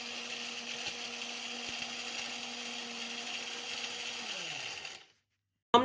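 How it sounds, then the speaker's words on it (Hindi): An electric grinder whirs loudly and steadily, crushing whole spices such as black cardamom into homemade degi masala, then abruptly stops, leaving brief silence before a short clatter. "अब हम इसे पीस लेंगे।"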